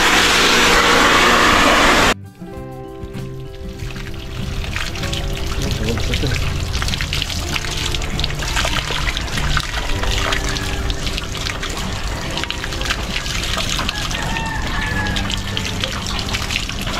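Water gushing and trickling from a drum over bonsai trees in a garden, a loud continuous pour with splashing that starts after a brief burst of other noise and carries on steadily.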